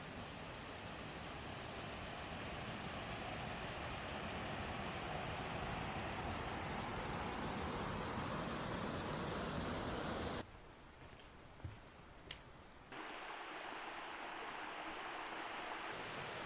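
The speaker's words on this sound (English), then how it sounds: "Personally, this is my favorite waterfall in Panthertown, Wilderness Falls." Wilderness Falls in Panthertown Valley roars as a steady, broadband rush of falling water close by, briefly cut lower for a few seconds, with no talking.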